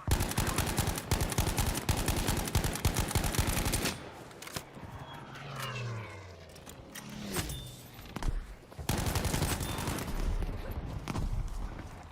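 Heavy automatic gunfire from Battlefield V combat, loud sustained bursts that drop out into quieter explosions and rumble midway before rapid firing resumes.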